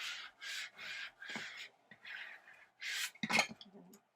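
Paper fold on a scrapbook album being burnished down with a tool, a series of short dry rubbing strokes in a steady rhythm, close and moderately quiet, ending with a brief sharper scrape.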